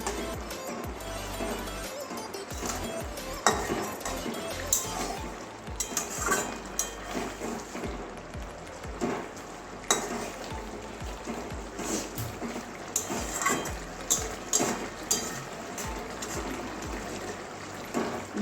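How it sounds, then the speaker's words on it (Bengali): A spoon scrapes and clanks against a pan as a Bengali curry is stirred with garam masala, with a soft bubbling simmer under the irregular metal knocks. "এবারে ভালো করে মিশিয়ে নেবো গরম মশলা সঙ্গে"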